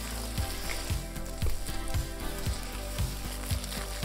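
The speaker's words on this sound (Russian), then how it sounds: "Начинаем жарить яйца" Eggs fry in a pan with hot oil, stirred often for Thai fried rice, giving a steady close sizzle with faint scraping pulses repeating through it and no voices.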